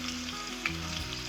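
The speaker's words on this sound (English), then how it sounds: "frying them a little so that they won't break when we make the gravy" Koftas fry in hot oil in a pan for a kofta curry, giving a continuous close sizzle with small crackles and faint stirring, and no voices.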